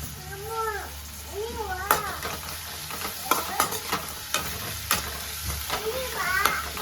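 Garlic sautéing in a pan for banana flower poriyal, a close crackling sizzle broken by sharp spoon-scraping clicks and stirring taps, with a voice speaking over it at times.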